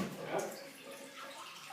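Water poured onto two cups of oats for homemade oat milk, a soft steady splashing trickle heard close by, quiet and continuous, with talk partly over it.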